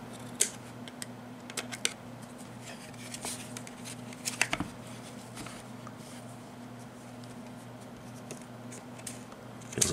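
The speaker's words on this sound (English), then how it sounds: "obviously you can easily get your scissors in here" Scissors snip through cotton wick for a Gemz Axis rebuildable tank atomizer in a series of small, sharp clicks, close and quiet, scattered irregularly over a faint steady hum.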